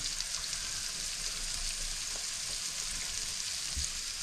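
Chilli ingredients fry in a wok, giving a dense continuous sizzle with faint stirring scrapes, close and steady for a few seconds, no talk.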